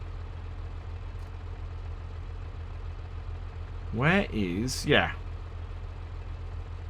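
Tractor engine idling in Farming Simulator 22, a steady low drone running throughout while someone speaks briefly partway through.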